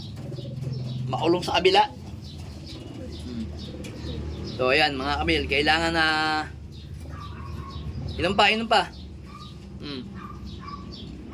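A pet bird coos softly and repeatedly in low, steady tones near the start, then people talk over it in Tagalog for the rest of the clip.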